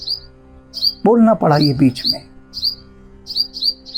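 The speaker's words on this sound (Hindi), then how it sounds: "अब ये सुन रहे हैं आप, चिड़िया कितनी अच्छी अपनी तान दे रही है।" Bright, high bird chirps repeat in quick phrases throughout, clear and fairly close, while someone speaks briefly over them.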